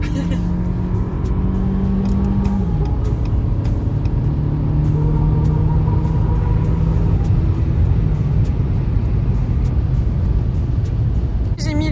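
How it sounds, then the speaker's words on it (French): Renault Captur accelerating hard at full throttle onto a motorway, a steady loud engine drone heard from inside the cabin with a tone that shifts as it revs, continuous throughout with a voice briefly over it. "on va faire une entrée sur l'autoroute avec ce superbe Captur. J'ai le pied au plancher."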